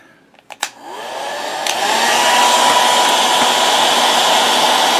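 A heat gun warms a PCV tube assembly on a car. A few sharp clicks come first, then the blower spins up into a loud, steady rushing hiss that carries on alone.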